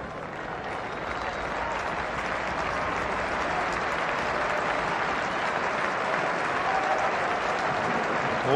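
A football stadium crowd at a 1994 Premier League match between Norwich and Southampton applauds a player leaving the pitch: steady, sustained clapping from a large crowd, heard from a distance and carrying on without a break.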